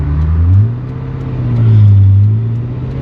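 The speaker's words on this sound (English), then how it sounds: "Listen to it on tick over. It sounds so good." A Ferrari 355, over 30 years old, ticking over at idle: a steady, loud mid-low engine burble with a gentle swell in revs partway through, up close and with no talking over it.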